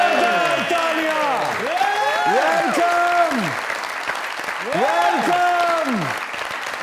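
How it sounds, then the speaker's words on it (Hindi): A studio audience of a comedy talk show applauds for an actress's entrance, a steady roar of clapping beneath someone repeatedly speaking greetings over it. "जोरदार तालियां"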